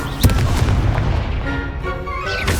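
Incendio fire spell cast in the Hogwarts Legacy video game, a sharp burst near the start followed by a sustained roaring, crackling rush of flame lasting a couple of seconds, loud and alone.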